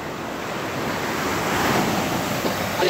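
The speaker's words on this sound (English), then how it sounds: "The waves are coming in like" Ocean surf rolling onto a beach, a steady close roar of breaking waves with wind buffeting the microphone, swelling slightly toward the end.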